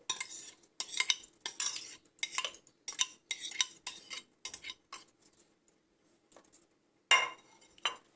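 Minced meat, onion and pepper filling being stirred in a bowl with a utensil, giving repeated scraping clinks in a steady rhythm that pauses and resumes near the end, close and clear with no talk.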